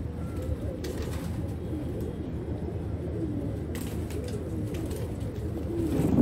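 Sialkoti pigeons coo softly and steadily at close range over a low background rumble, with no voices.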